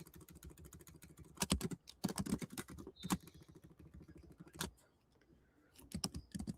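Rapid keyboard typing in bursts of clustered clicks with brief pauses, close and fairly quiet, with no talk over it.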